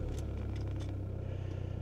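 A 1994 VW Passat B4 with the 1.9 TDI diesel engine settles into a loud, close idle after starting, giving a strong low rhythmic clatter with a few brief higher transient bursts near the start.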